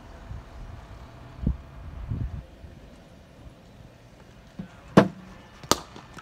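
A golf club strikes a ball during a one-to-one golf lesson outdoors: a sharp, close crack rises above faint wind and low rumble, followed moments later by a second brief click.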